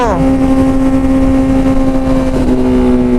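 Kawasaki Z900 with an Arrow full-system exhaust revs, a loud, close engine whose pitch drops quickly from a high blip and then settles into a steady, rumbling idle with a slight wobble near the end.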